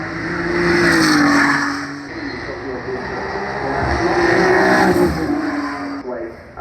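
A Maserati GT2 race car climbs the Goodwood Festival of Speed hillclimb, its engine roaring loudly, then easing and swelling again as it drives past, with a voice talking over it.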